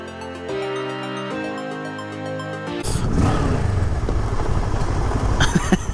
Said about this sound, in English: When it's all silent and you rev in front of people, it's fun.